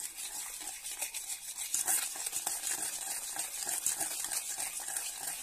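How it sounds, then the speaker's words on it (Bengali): Refined oil and sugar being stirred together in a bowl for cake batter, a close, steady scraping and swishing that continues without pause. "তেল আর চিনি ভালো করে মিশাতে হবে।"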